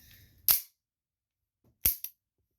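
An empty Beretta handgun is handled and cleared: three sharp metallic clicks and clacks, one near the start and a quick pair later, separated by silence, close and crisp.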